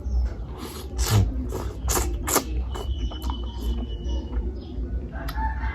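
Chickens cluck, and a rooster crows at middle distance outdoors, mixed with clattering and ambient background noise.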